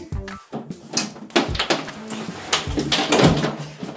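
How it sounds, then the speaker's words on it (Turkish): Cartoon door pounded by chasing coronavirus germs, a series of loud, sharp thuds and bangs close up, repeated in an uneven rhythm over about four seconds with brief gaps. "Kapıyı devirecekler resmen Demir."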